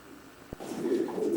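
Soft, low cooing of racing pigeons close by in a loft of young birds and hens, preceded by a brief thump, with a murmur of birds continuing through the rest.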